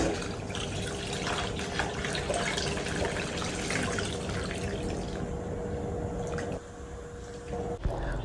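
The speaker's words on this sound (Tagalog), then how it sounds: "Then, ilagay natin yung ating tubig." Water pours steadily into a pan holding beef tongue with bay leaf, onion and garlic, a continuous close splashing fill lasting several seconds before tapering off near the end.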